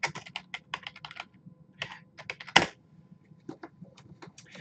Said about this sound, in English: I'm going to type the citation this way.